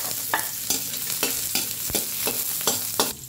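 Garlic sizzles and fries in hot cooking oil, with a steady hiss broken by repeated scraping stirs at a fairly even rhythm, close and fairly loud.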